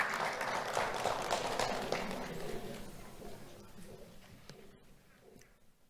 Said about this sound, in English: Let's have a round of applause for William Barron Phillips.